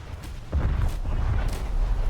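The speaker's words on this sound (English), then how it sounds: "The new rocket sound effects are amazing" Rocket launches and impacts during a War Thunder naval battle with the Yūbari prototype cruiser, deep booming thuds and rumbles following a couple of sharper launches.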